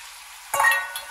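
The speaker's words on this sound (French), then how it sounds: "Allez, je vais mélanger mon maïs." Corn being stirred in a cooking pan, a short scraping, sizzling burst of kernels moving against the hot metal after a stretch of quiet, close by and alone.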